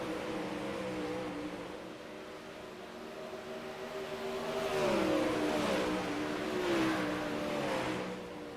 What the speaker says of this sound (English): almost thought about doing that slide job, not quite, got a little bit of wheel to wheel, but Daniel was able to pull away